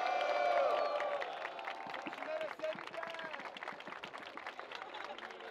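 A crowd at a rap battle roars at first, then settles into sustained clapping and cheering with shouted voices mixed through, moderately distant and steady.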